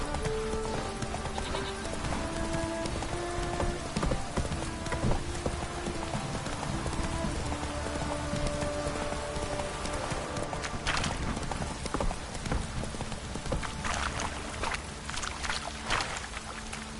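Roach, a horse in the video game The Witcher 3, trots with rapid, regular clip-clopping hooves, close and continuous, layered over game music and ambient effects.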